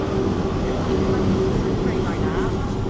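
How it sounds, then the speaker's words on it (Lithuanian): A heavy, continuous rumble of a train rolling past nearby at a station in Antibes, France, a loud, steady mechanical roar with no clear speech. "Štai ir mūsų traukinys, nebespėjom."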